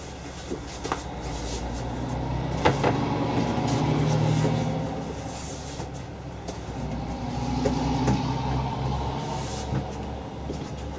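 Motorized bed in a 2017 Winnebago View 24G moving, a steady low electric motor hum that rises and eases twice over several seconds, with a few faint clicks and knocks and no talk.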